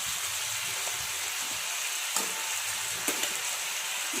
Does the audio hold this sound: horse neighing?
no